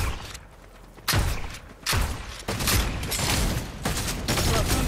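A shotgun fires in Fortnite, delivering several heavy, booming blasts spaced roughly a second apart, close and loud, with scattered clatter between them.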